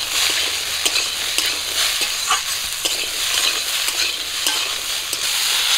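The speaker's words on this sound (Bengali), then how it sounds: "লবণ হলুদ দেওয়ার পর আবারও একটু ভাজা করে নেব।" Fish sizzles and fries in a pan after turmeric and salt go in, with a constant hiss of hot oil and occasional scrapes of a spatula stirring. No voices are heard.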